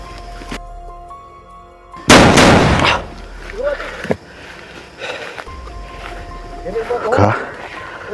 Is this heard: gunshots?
yes